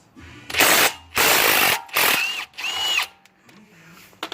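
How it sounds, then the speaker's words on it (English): An impact-style power tool loosens the brake caliper bracket bolts on an 2008 Cadillac Escalade EXT in four close, loud bursts, the last one rising in pitch, followed by faint clicks and rattles. "go ahead and break loose your brake caliper bracket"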